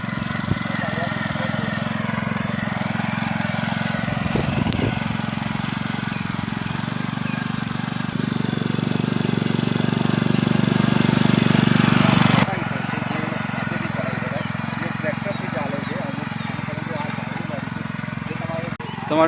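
A small petrol-powered rotavator tills a field with a steady droning engine that swells louder for a few seconds midway and then settles back. A voice talks over it.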